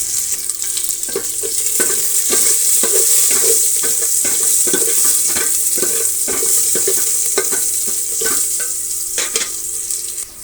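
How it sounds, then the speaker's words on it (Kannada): Chopped onion and curry leaves fry in hot oil in a pan, giving a loud, constant sizzle broken by repeated spatula strokes and scrapes, with no voices. "ಕರಿಬೇವಿನ ಸೊಪ್ಪು ಸ್ವಲ್ಪ ಸೇರಿಸ್ತಾ ಇದ್ದೀನಿ. ಇಷ್ಟೂ ಫ್ರೈ ಆಗಲಿ."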